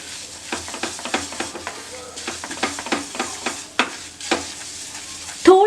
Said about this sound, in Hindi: और इसकी फ्लेम मीडियम हीट पे रखूंगी और बस इसको अच्छे से मिक्स करूंगी